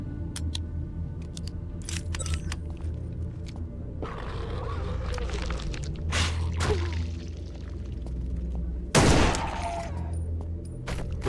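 Gunfire in the Ground Zero survival horror video game comes as scattered sharp shots and clicks among metallic rattles and game noise, with one louder burst near the end.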